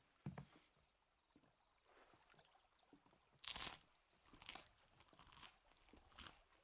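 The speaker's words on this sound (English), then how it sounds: "That's some crunchy ass bread." A character eats crunchy tavern bread in the Final Fantasy 16 video game, with several sharp crunching bites in bursts and a softer crunch early on, close and alone.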